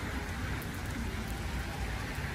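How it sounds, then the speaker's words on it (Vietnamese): Heavy rain falls steadily in Germany, a dense continuous hiss of drops on surfaces that stays even and moderately loud throughout, with no voices. "mưa vẫn còn nặng hạt lắm cả nhà"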